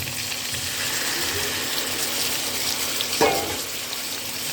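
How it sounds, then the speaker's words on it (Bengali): Water poured into a pan of prawns frying with ginger and garlic brings a steady hissing, watery rush, with a sharper splash and sizzle burst near the end. "এখন আমি দিয়ে দিব কিছুটা পরিমাণ পানি।"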